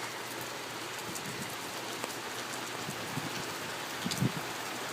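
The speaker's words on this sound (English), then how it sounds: "We got rain." Steady rain falling, a dense continuous hiss of drops on surfaces, fairly loud and even throughout with no talking.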